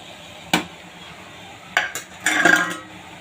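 A spoon clanks against a pan as moringa leaves with grated coconut and chana dal are stirred, giving a few sharp metallic knocks and a brief scraping burst, close by over a quiet background.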